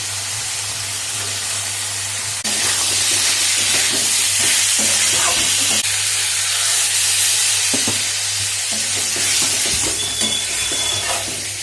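Potato curry with spices and peas cooking in a pan for a vegetarian aloor dum, a steady sizzle and frying hiss with occasional stirring scrapes, close and continuous with no talking.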